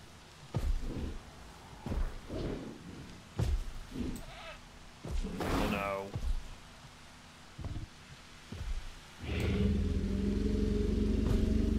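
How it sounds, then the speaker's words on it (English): A goat in a Jurassic Park video game bleats repeatedly in short, wavering cries spaced a second or two apart, amid rustling and low rumbles that swell into a heavy rumble near the end. "Oh, that poor goat."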